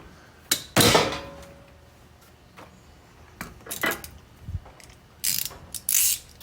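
A ratchet tightens a nut on the steering shaft of a John Deere HPX 4x4 Gator, giving several short bursts of close, crisp clicking separated by pauses.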